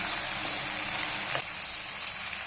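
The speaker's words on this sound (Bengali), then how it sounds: "শুধু নুন দিয়ে ভালো করে মাছটাকে ভেজে তুলে নেবে" Prawns frying in oil with salt give a steady, close hissing sizzle that stays even throughout, with a slight shift partway through.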